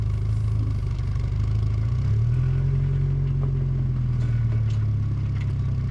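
Porsche 944 with its four-cylinder engine, driving on the road, heard as a loud, constant low drone whose pitch rises slightly and then settles, with a faint rattle over it.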